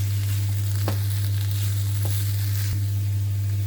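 Onion and coriander leaf mixture for barley kuzhi paniyaram sizzling steadily in a pan, with a few brief scraping stirs over a constant low hum, no talking.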